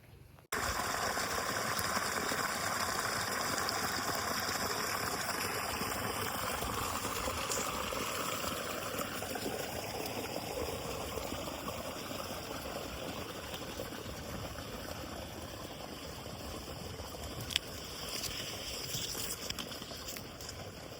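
Irrigation water running steadily along a field channel, a continuous broadband rush with a faint mechanical hum, sustained and even throughout with a brief click near the end.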